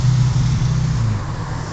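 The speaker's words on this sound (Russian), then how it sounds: "вот едет мой автобус только он едет обра... на обратном пути" A city bus drives along a street near European Square in Kyiv, giving a steady, close, loud low engine rumble with road noise that holds through the whole moment, with no talking.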